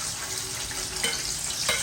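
Onions dropped into hot oil for biryani, a soft close sizzle with a couple of brief stirring scrapes, fairly quiet and without talk.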